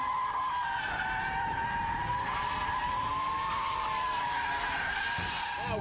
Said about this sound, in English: we need the power slide.